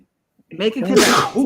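A single sharp sneeze bursts out mid-conversation among podcast hosts, loud and close, with people talking around it before and after.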